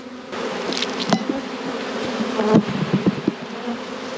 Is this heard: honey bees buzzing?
yes